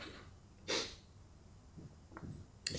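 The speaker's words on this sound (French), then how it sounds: "Moi, je crois que je vais éternuer." One sharp, close sneeze bursts out from a person with a slight cold, followed by quieter sniffs and breaths in an otherwise quiet room.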